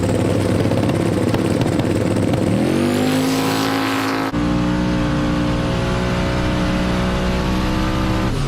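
A turbocharged Ford Falcon drag race car accelerates hard down the strip at Edgewater, its engine screaming as the pitch climbs through the gears, loud and close, with a sharp shift midway and a sustained high-revving roar after.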